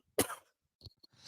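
A single sharp cough close by, followed by a couple of softer throat-clearing sounds and a breathy exhale in an otherwise quiet moment.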